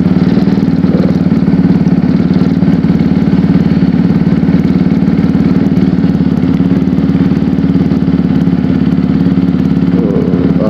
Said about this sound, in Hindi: बाइक स्टार्ट हो गई है।